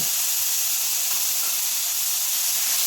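Medium-sized onions dropped into hot oil and sautéing with green chillies for a prawn rice dish, giving a steady, broad, hissing sizzle that holds evenly throughout with no talk.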